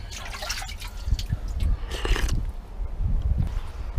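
Water from a natural spring trickles and drips nearby outdoors, an irregular gurgling stream with a few bursts of splashing over low rumbling background noise.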